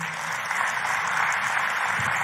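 A church congregation claps in a steady, dense wash of applause that holds at an even level throughout, with no clear voices on top.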